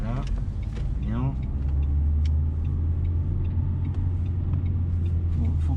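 A car in a driving lesson, its engine revving steadily and loudly up toward a gear change, a continuous rising drone close inside the cabin, with an instructor and learner talking over it.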